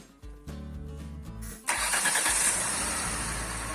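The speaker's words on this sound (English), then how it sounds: "install it at once and start the engine" A Jaguar X-Type engine cranks with a whirring starter for over a second, then catches and settles into a steady, loud idle after a knock sensor installation.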